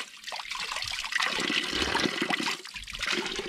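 Cold mountain water gushing and splashing from a roadside spout in Greece, a close, continuous rushing pour that swells and eases, with no talk.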